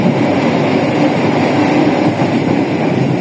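A Pasundan economy-class passenger train rolling into a station yard, a loud, continuous rumble of wheels and carriages heard from on board, steady throughout.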